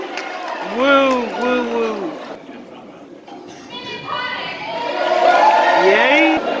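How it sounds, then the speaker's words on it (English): Crowd cheering and whooping at cardboard boat races, with excited voices and children's shouts rising and falling in waves, close and lively, and one voice calling out near the start. "Everybody's cheering"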